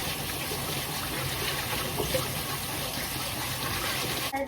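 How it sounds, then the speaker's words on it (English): Water shaken and drained out of a pot of freshly rinsed white rice during home cooking, a steady close splashing and trickling wash of liquid that runs continuously with no talk. "You're just gonna want to shake out the water."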